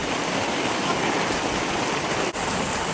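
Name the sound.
heavy rain falling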